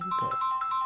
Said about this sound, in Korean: 수업 시간에 전화가 왔네.